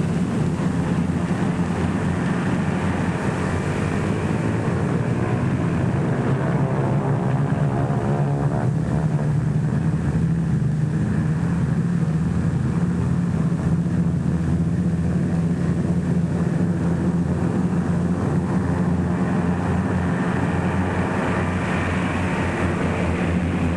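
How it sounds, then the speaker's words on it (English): More than twenty US B-24 Liberator bombers warm up their engines on an airfield in North Africa, a loud, steady, continuous propeller drone with a low throbbing hum that holds throughout, with no talk. "More than a score of United States liberators warm up for the takeoff from a field somewhere"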